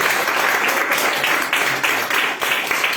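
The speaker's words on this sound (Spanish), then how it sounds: "Un aplauso a Jesús" A church congregation breaks into loud, dense applause during a sermon, a continuous wash of many hands clapping with slight surges, filling the short stretch without speech.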